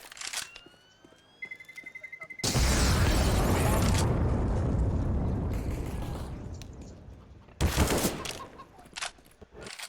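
A bomb going off in a video game as a loud, sustained blast that rumbles for several seconds and slowly fades, then a second sharp burst followed by scattered smaller pops.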